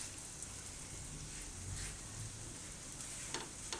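Kashmiri paratha cooking in ghee on a pan over a low flame, giving a soft, steady sizzle with faint crackles and light taps, quiet and continuous.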